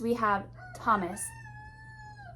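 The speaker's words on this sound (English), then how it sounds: "so if you can't, I hear a rooster going on" A rooster crows once in the background, a faint drawn-out call that follows a person's speech in a quiet room.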